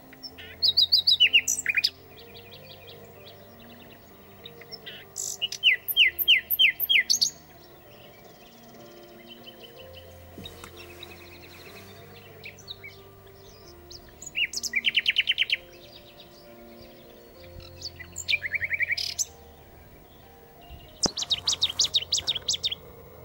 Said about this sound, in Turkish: Bülbül sesleri her taraftan geliyordu yine